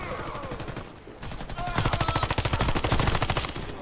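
Loud automatic gunfire in the Warface shooter game, a fast steady string of close shots that pauses briefly and then resumes harder, with a voice faintly underneath.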